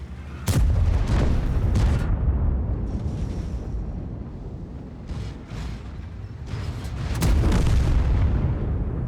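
Tank cannon fire from the T95/FV4201 Chieftain in a video game: a loud close blast opens, followed by rumbling echoes and a second heavy boom later, over a constant low engine drone.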